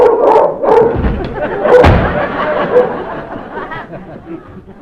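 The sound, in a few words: dog barking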